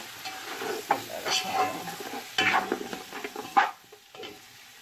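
Meat and spices for mutton yakhni pulao sizzle and fry in a pan, with a spoon stirring and scraping through the mixture in bursts; no one speaks.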